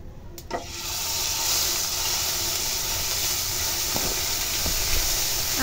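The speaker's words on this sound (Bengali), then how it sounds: "তো এখন ওই তেলের মধ্যে দিয়ে দেবে কালো জিরা," Black cumin seeds hit hot oil in a pan during cooking of a pabda fish curry: a brief clatter, then a continuous loud hissing sizzle with a few faint taps.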